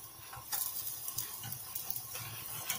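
Pancake batter sizzles and crackles in a preheated pan, a soft continuous frying hiss with small irregular pops, close by and without talking.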